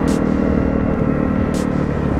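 A Honda CRF250L motorcycle engine on a test ride gives a steady, loud, close rumble that holds an even drone throughout, without any speech.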